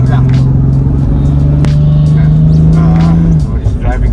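Toyota Supra fitted with an AMS Alpha 8 kit drives steadily, its engine a loud, constant drone that eases off near the end, with people talking over it inside the car.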